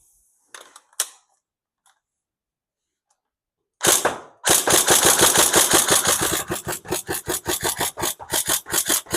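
Tokyo Marui AK47 Next Gen AEG airsoft rifle, upgraded with an extra power spacer and firing 0.32 g BBs, opens with a few faint clicks. Then come several seconds of loud, rapid full-auto fire as a steady mechanical rattle of closely spaced shots.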